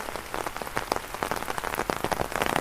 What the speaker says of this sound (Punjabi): ਲਓ ਜੀ ਬਰਸਾਤ ਦੁਬਾਰਾ ਹੋ ਗਈ ਵੀ ਆ ਚਾਲੂ